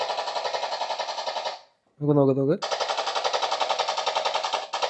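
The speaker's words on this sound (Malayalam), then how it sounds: "ഈ ഒരു ബട്ടൺ അമർത്തി കഴിഞ്ഞാൽ ഇത് തുരുതുര വെടിയും ചെയ്യോ" A toy vehicle fires rapid electronic machine-gun sound effects in two long, loud, rattling bursts. A brief pause between them holds a single spoken word.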